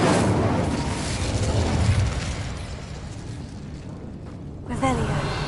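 Incendio fire spell cast in Hogwarts Legacy, a steady roaring fiery burst filling the first seconds and thinning out, with a short voiced sound near the end.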